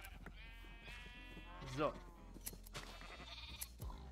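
Sheep in the Minecraft video game bleat with a wavering cry near the middle, standing out over ongoing talk and game sounds.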